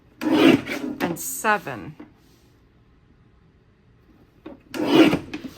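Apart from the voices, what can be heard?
paper trimmer cutting cardstock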